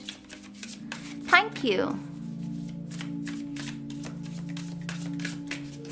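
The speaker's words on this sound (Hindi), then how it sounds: "शफल कर लेते हैं धनु राशि सैजिटेरियस साइन के लिए" Tarot cards shuffled for a reading, a short papery riffle and flutter of cards heard near, with a voice speaking briefly alongside.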